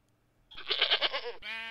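Sheep bleating in the video game TerraFirmaCraft: one loud, wavering bleat followed by a second steadier bleat, close and clear over a quiet background.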